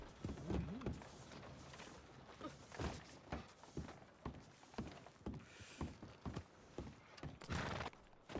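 Horse hooves clip-clop along a street in a Wild West roleplay video game, a steady run of uneven thuds and knocks at moderate loudness with no talk over them.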